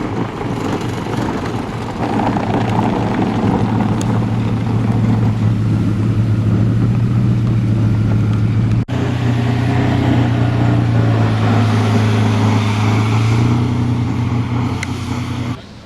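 Supercars, including a Ford GT, arrive at a rally, their engines rumbling loud and close in a continuous drone that swells and shifts as the cars roll past, with no voices.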